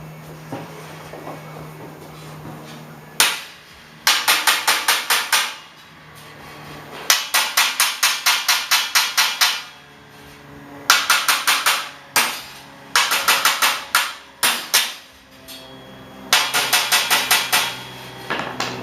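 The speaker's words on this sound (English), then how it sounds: "Hammer." Hammering during a gas-powered log splitter build: bursts of rapid sharp metallic blows in quick runs of about ten strikes, separated by short pauses, loud and close.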